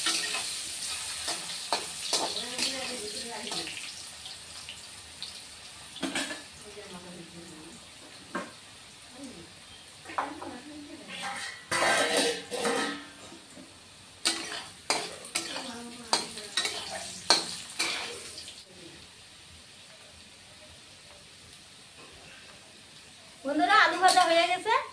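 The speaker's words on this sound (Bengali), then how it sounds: "বন্ধুরা আলু ভাজা হয়ে গেছে" Potatoes fry in oil with a soft continuous sizzle, broken by frequent spatula stirs and scrapes against the pan, while a person talks over it at intervals.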